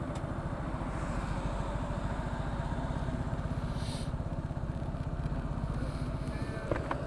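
A motorcycle runs on a highway near the Padma Bridge, its engine a steady, close pulsing drone with rushing wind, holding level throughout with a faint whine and click near the end.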